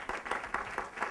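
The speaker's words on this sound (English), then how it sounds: "give them a round of applause" Audience applause at a Rutgers University Eagleton Institute of Politics event, a steady wash of many hands clapping with rhythmic swells, moderately loud and continuous.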